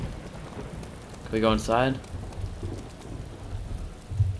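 Steady rain pours in Arma 2 DayZ, with possible low thunder rumbling beneath it, while a voice briefly speaks partway through.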